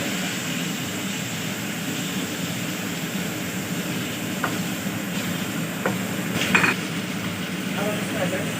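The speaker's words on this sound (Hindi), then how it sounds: "अब इस पॉइंट पे हम चिकन डाल देंगे और चिकन को इसके साथ अच्छी तरह से फ्राई" Chicken frying with onions in a pan gives a steady, even sizzle that runs through the whole stretch, with a few faint clinks near the end.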